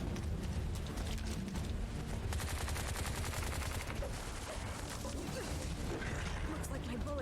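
Rapid gunfire in the Onimusha Warlords video game, a dense continuous clatter of shots under busy game noise and mechanical clanking, sustained and loud throughout.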